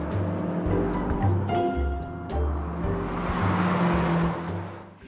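A hot lap car accelerates flat out in third gear on a track, its engine roaring loud and close with gear changes and shifting pitch and no talk over it.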